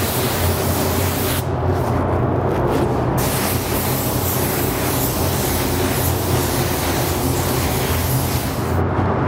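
Spray gun laying down a first coat of bright chrome paint, a steady continuous hiss of atomized spray held close and loud for the whole stretch, briefly thinning for a moment, with no talking.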